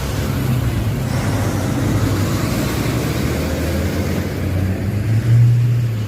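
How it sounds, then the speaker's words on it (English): Heavy trucks rumbling past on a road outside a public library, a low continuous drone that swells and fades as vehicles go by, with a deeper engine note rising near the end. "Just want to make sure you can hear me over the trucks."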